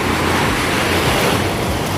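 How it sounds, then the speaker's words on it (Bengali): Large sea waves crash on Puri beach, a steady, dense roar of surf that stays loud and continuous throughout, with no voices over it. "আর এদিকে ঢেউগুলো দেখতে পাচ্ছ কত বড় বড় ঢেউ ভাই"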